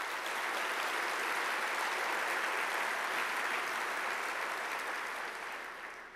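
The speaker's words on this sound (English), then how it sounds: "They deserve a big round of applause" An audience at a Georgia Eggs & Issues breakfast event applauds steadily for about six seconds, a dense, even wash of clapping that fades slightly at the end.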